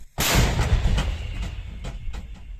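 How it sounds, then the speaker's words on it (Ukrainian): A loud, deep boom of a 122 mm Gvozdika self-propelled howitzer firing, with a sharp blast that rolls into a long echoing rumble fading over a couple of seconds. "Гармата! Остріл!"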